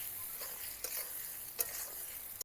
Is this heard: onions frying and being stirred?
yes